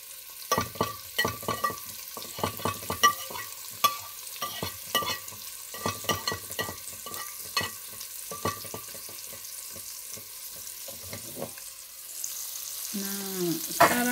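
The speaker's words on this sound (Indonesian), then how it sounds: "sekarang ini kita tumis" Spice paste for beef biryani being sautéed in a pan. A steady loud sizzle runs under repeated rhythmic spatula scraping and stirring strokes, with faint talk in the background.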